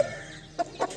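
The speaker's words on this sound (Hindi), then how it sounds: "ये मुर्गा बन गया माशाल्लाह" A home-raised rooster from a good backyard breed, hatched in December, gives two short clucking calls close by, separated by a brief pause, over a steady low background.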